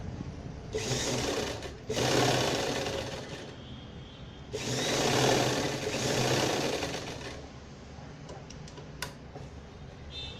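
A sewing machine stitches the folded corner of gown fabric, running in two longer steady whirring bursts with quieter pauses and small ticks, close by, with no voice.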